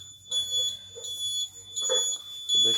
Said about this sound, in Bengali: ডান দিকের ইন্ডিকেটার দিলাম,